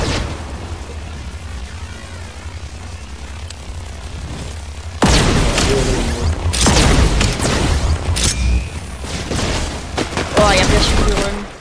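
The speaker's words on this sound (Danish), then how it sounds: "Jeg bliver skudt i ryggen." Gunfire and explosions erupt in Fortnite, played with Star Wars weapons, as rapid loud bursts and booms that grow dense midway through, with players talking over the action.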